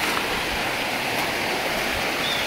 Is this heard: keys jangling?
no